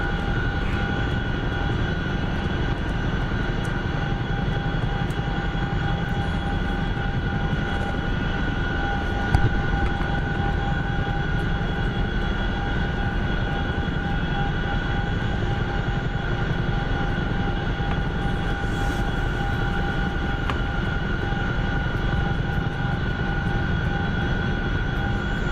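Chinook helicopter flying, a steady distant engine and rotor drone that holds evenly throughout with a faint hum over it.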